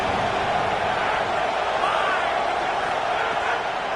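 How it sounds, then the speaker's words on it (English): Football stadium crowd roaring behind the defense on third down, a dense, steady wall of noise that stays loud and unbroken throughout. "Decibels rising as the crowd gets behind this defense on 3rd down."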